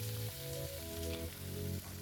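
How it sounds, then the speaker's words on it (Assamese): Potatoes and spinach hit a hot wok and fry with a steady, close sizzle, while a melodic tune plays prominently over the top throughout. "তাৰপিছত অলপ ভজাৰ পিছত আমি কাটি থোৱা আলু আৰু পালেংখিনি কেৰাহীত ধুনীয়াকৈ দি দিলোঁ।"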